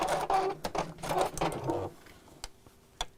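A sewing machine sews on a button, a rapid run of mechanical stitching bursts for about two seconds, then stopping with a few light clicks, close and clear without talk.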